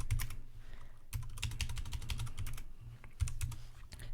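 A command typed on a computer keyboard while partitioning a new disk in a RHEL 8 terminal: a rapid, even clatter of key presses with one brief pause, close and steady over a low hum, with no voice.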